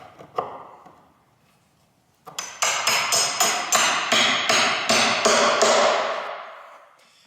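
A couple of loose taps, a pause, then a steady run of about a dozen ringing hammer blows driving a carriage bolt into a wooden cornhole board, loud and close.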